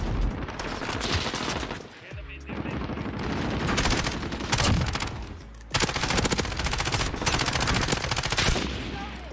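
Rapid gunfire in a first-person shooter game, dense automatic bursts rattling almost nonstop with a brief lull, loud and close, with a voice talking now and then underneath.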